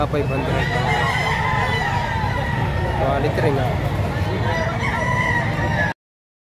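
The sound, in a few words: white kelso rooster crowing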